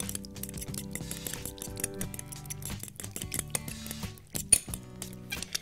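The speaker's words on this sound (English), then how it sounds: "I like to use a fork because a whisk gets all the stuff in there" Fork whisking a vegan Caesar salad dressing with Dijon mustard in a bowl, giving quick, steady clinks and scrapes of metal against the dish, close and fairly quiet, with no talking.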